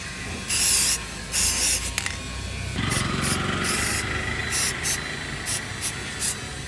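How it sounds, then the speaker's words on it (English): Repeated hissing blasts from an acrylic spray paint can, used on a Benelli Imperiale 400 motorcycle part, some longer and some short, over a constant mechanical hum in the background. "this is the acrylic spray paint."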